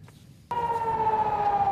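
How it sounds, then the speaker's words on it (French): An air raid siren in Tel Aviv starts abruptly and holds a loud, steady wailing tone over a low street rumble, with no talking. "Les sirènes retentissent dans le ciel de Tel Aviv."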